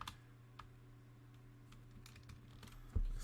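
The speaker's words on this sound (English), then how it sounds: "I have to type it." Quiet typing on a computer keyboard, a few soft scattered key clicks over a low background hum, ending with a slightly louder tap.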